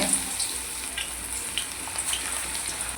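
Onion pakoda batter dropped into hot oil over a medium flame, frying with a steady close sizzle and crackle that runs continuously, with no voices.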